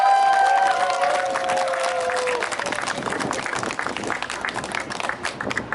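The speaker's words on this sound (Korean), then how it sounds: "더 큰 박수 한번 보내주십시오." Crowd at a street campaign rally for presidential candidate Moon Jae-in bursts into loud clapping and cheering, with a few whistles at first, then the applause fades slowly.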